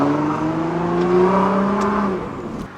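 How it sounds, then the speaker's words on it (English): A 1500hp twin-turbo Nissan GT-R engine revs with a rising, sustained tone that climbs then drops off, loud and close, ending with a faint hiss. "Turbos still don't make that much noise"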